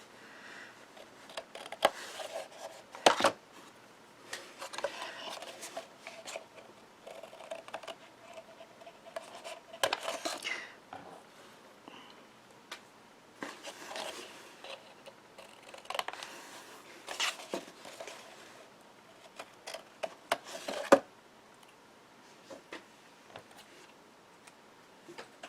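Paper cardstock being trimmed with scissors for card making, a run of quiet, irregular snips and rustles over about 25 seconds with small handling ticks and no talk.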